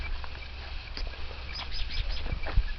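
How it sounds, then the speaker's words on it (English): A small bird chirps faintly and intermittently in a berry garden on a spring morning, a few short high tweets over steady outdoor background noise. "Chirp again, Birdie."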